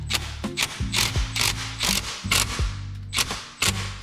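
Screws being driven with a power driver into a new aftermarket plastic front grille on a 2014 Honda CR-V, loud close ratcheting bursts repeating in quick succession with short pauses between.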